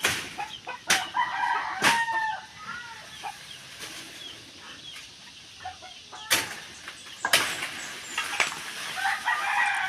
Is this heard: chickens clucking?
yes